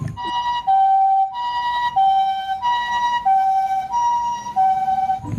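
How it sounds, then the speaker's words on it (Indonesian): A toy ambulance plays its electronic siren, a steady two-tone wail alternating high and low about every second, loud and close with no talking. "Ini mobil ambulan."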